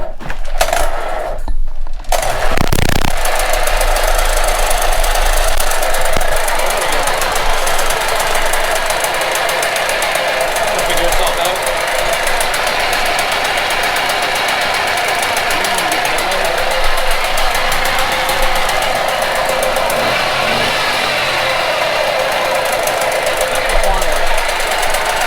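Mini bike engine buzzing steadily and loudly during a ride, a continuous rattling drone close to the microphone, after a brief burst of speech at the start.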